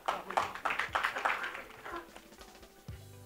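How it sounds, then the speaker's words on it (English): An audience at a panel event applauds, a brief burst of fairly close clapping that rises quickly and then fades within a couple of seconds. "Can we please have a huge round of applause for Mr."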